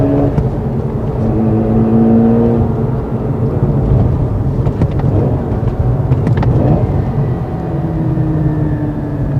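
A Mazda RX-8 Spirit R (SE3P) rotary engine runs steadily close by, a loud continuous rumble with a smooth droning hum and slight shifts in pitch.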